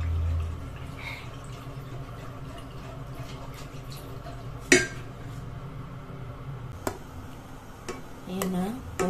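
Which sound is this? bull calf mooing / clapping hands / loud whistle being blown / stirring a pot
stirring a pot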